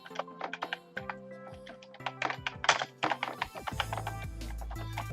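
Quick clicks of typing on a computer keyboard, a steady run of close, crisp keystrokes with a tonal hum and background music underneath.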